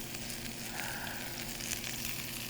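Collard greens and garlic scapes sizzle steadily in a hot pan over high heat, a close, constant crackling hiss that runs without a break and with no talking.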